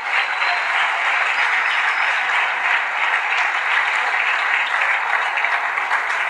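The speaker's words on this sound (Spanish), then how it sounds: "Dale un aplauso al Rey bendito." A church congregation applauds during a Spanish-language sermon, a full, continuous wash of many clapping hands at steady loudness that lasts the whole stretch, with faint voices blended in.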